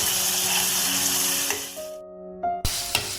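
Tomato puree sautéing in a pan for a drumstick fry, a continuous sizzle that drops out abruptly partway, then returns with a few stirring knocks, and faint tonal hum lines sitting underneath.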